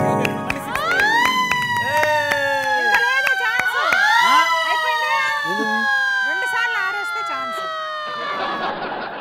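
A loud, continuous siren wails with rising and falling sweeps on a Telugu game show set, while a crowd cheers and voices call out over it.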